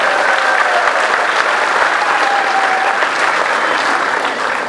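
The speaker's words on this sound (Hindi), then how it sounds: "तेकरो मन पर जोरदार ताली बजाएगा।" A large rally crowd gathered at an outdoor political event claps loudly and continuously, a dense, even wash of applause with a few scattered voices mixed in.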